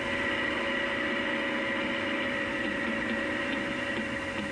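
Leyland 344 tractor engine running steadily on the move during a driver change, a continuous mid-toned drone with low rumble and vibration, no talk.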